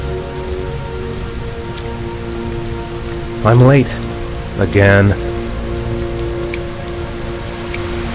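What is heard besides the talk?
heavy rain in the video game Heavy Rain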